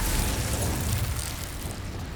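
An Incendio fire spell in Hogwarts Legacy erupts as a loud, close, steady roaring whoosh of flame with a deep rumbling body, sustained for about two seconds and easing slightly toward the end, with no voices.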